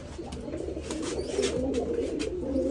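A Rajshahi Giribaz pigeon coos close by, a soft, throaty, rolling murmur that rises slightly and continues steadily through the short moment, with no talking.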